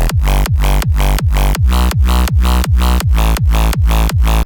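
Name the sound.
synthesized bass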